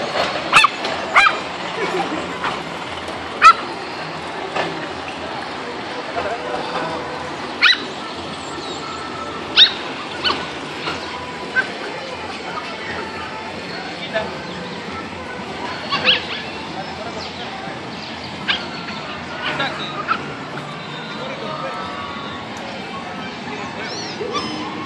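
Yorkshire terriers barking in short yips and whimpering, scattered sharp bursts repeating irregularly over a steady background, with people calling to the dogs at times.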